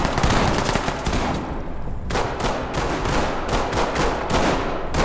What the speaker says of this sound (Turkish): Oğlum nereden sıkıyorlar lan?